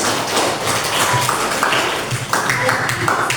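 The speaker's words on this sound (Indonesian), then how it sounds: "tepuk tangan temannya" Schoolchildren in a classroom clap their hands together, a steady patter of many small claps at moderate loudness, with voices speaking over part of it.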